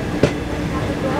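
A train on the Sealdah main line rolls past Patipukur station in Kolkata. It makes a steady, close rumble with one sharp clack early on.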